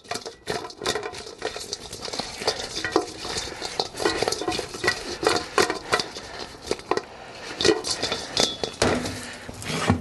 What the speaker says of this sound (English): Shake it around, flip them over, make sure they get covered on all sides.